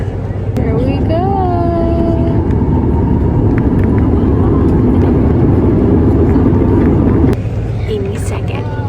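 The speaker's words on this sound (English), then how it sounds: "Turning onto the runway." A passenger airplane turning onto the runway before takeoff, heard from inside the cabin as a loud, steady low engine rumble with a rising whine, while people talk over it.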